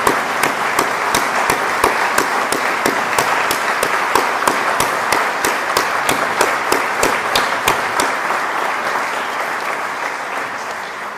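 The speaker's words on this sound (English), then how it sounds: "Let's give everybody a round of applause," Audience applause at an athletic hall of fame induction ceremony, a steady wash of many hands clapping in a hall, with sharp individual claps standing out, sustained throughout and slowly tapering near the end.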